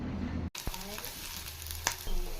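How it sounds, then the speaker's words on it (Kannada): Onions frying in a pan for a chickpea and pea masala sambar: a soft continuous sizzle after a brief silence, with a couple of stirring taps. "ಈರುಳ್ಳಿ ಗೋಲ್ಡನ್ ಕಲರ್ ಫ್ರೈ ಆದ ನಂತರ ನಾನಿಲ್ಲಿ ಬೆಳ್ಳುಳ್ಳಿ ಸೇರಿಸ್ತೀನಿ"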